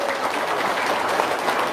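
Audience applause at a motivational talk, a dense steady wash of many hands clapping together, fairly loud and sustained without pause.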